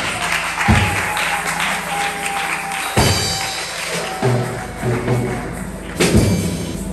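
Congregation applauding inside a church, a steady wash of clapping that swells in fresh bursts every few seconds, fairly loud and continuous throughout.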